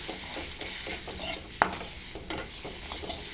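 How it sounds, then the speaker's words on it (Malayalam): Spice powders for a gooseberry pickle are stirred and roasted in a pan, giving a close, continuous sizzle with repeated scraping strokes and one sharp metallic clink. "ഇനി നമുക്ക് നന്നായിട്ട് അങ്ങ് ഇളക്കി യോജിപ്പിക്കാം."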